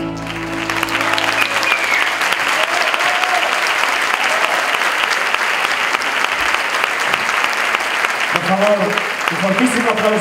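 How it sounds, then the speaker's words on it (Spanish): Loud, sustained applause from a large crowd at an awards ceremony, dense clapping filling the whole stretch, with some voices and music creeping in near the end. "Fortísimo aplauso para Ángela Dionisio."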